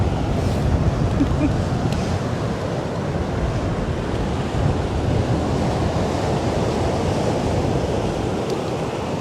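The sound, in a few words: ocean waves on the beach at Topsail Hill, Florida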